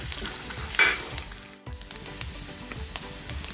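Coconut pieces fry in hot coconut oil with a steady, close crackling sizzle. A brief clatter is followed by a short drop in the sound, and then the bubbling resumes with scattered pops.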